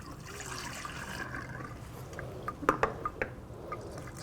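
Steady hiss of tap water running through a lab reflux condenser, with a few sharp clinks and taps of glassware partway through.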